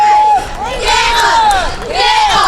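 Cheerleaders chant and shout on the sidelines of a high school football game between Fremont and Lenawee Christian, a loud crowd of voices with rising, whooping calls repeating in bursts over steady stadium noise.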